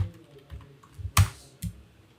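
Bengali text being typed on a computer keyboard: a handful of irregular keystrokes, close by, with one sharp, louder key press partway through and quiet pauses between them.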